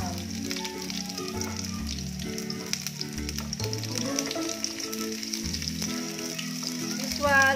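Onion fries in hot oil in a pan (kawali), giving a continuous, even sizzle close by, with soft tonal music playing underneath.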